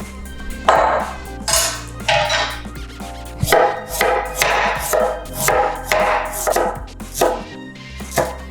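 A knife chops fresh ginger on a board while an egg curry is being made at home, with steady, fairly close cuts that come in quick uneven bursts.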